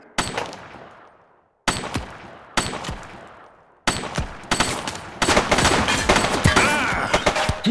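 Gunshots in the police game The Precinct: a few sharp, loud single shots ring out with short echoing tails and gaps between them, then break into a rapid, continuous burst of fire toward the end.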